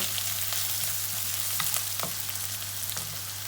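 Vegetables fry in a pan with a steady, dense sizzle, punctuated by a few brief crackles and stirring clatters, close and continuous throughout.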